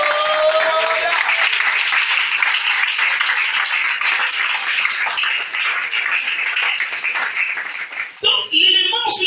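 A church congregation applauds and cheers for Jesus, with dense, sustained clapping from a large crowd filling the room for several seconds before it tapers off abruptly near the end.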